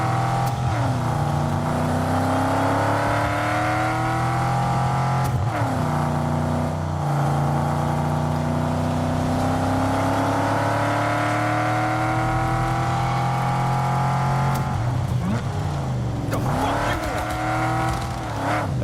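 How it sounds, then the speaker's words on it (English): A fast muscle car in Cyberpunk 2077 drones with a steady, loud engine note that rises and falls as it revs and accelerates, with brief tire noise and a voice speaking over it. "This car's a little hard to control. It's fast, but it's got that kind of muscle car handling."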